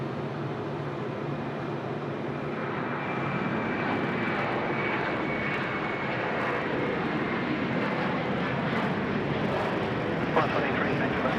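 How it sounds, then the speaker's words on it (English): A Qantas Airbus A330-300 departs Sydney Airport for Bangkok, its engines a steady, fairly distant roar with a faint high whine, broadening gradually as the takeoff continues, while a voice talks over it. "the A330-300 is getting away before the Philippine Airlines comes in for an arrival"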